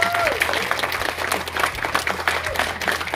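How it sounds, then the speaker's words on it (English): Crowd applause at a tug-of-war fitness event fills the clip, steady clapping from many hands at moderate loudness, with some voices mixed in underneath. "So clap for all, of us."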